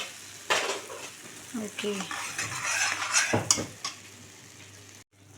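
Spiced methi matar malai masala with black pepper, sugar and garam masala is sautéed until the oil separates, with a low sizzle under repeated close scrapes and clinks of a spoon against the pan and one brief spoken word.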